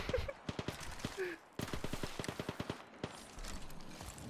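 Bursts of rapid gunfire in Apex Legends, sharp repeated shots in quick clusters with brief pauses between volleys, loud and close, no talking.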